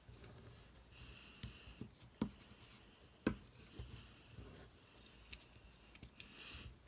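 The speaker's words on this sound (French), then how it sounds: "je vais venir passer un petit coup de plioir sur tout le bord de la carte pour que la colle adhère bien" A bone folder is rubbed along the edge of a Stampin' Up! wedding card to press the glue down, giving faint, close dry scraping strokes broken by a few sharp taps, quiet throughout.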